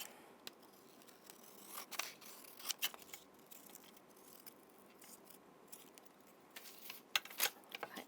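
Scissors snipping around paper for a mixed media craft plaque, a quiet series of close, irregular crisp cuts with short pauses between them and no talking.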